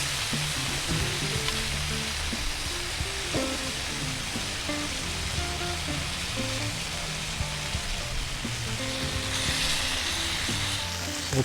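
Beef filets sear loudly in a hot pan, a dense continuous sizzle that holds steady and close throughout with faint background music.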